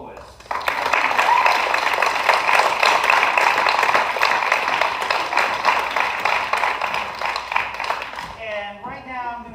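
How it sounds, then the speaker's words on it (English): An audience at a summer jazz band class concert applauds the soloists, a dense, sustained wash of many hands clapping that swells quickly and holds for several seconds before fading, with a voice speaking at the very end. "if we can have a big round of applause for all the soloists"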